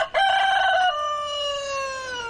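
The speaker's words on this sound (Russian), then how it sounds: "Вместо будильника детей здесь будет петух" A rooster crows once at a countryside children's summer camp, loud and close, a long drawn-out call that fades at the end.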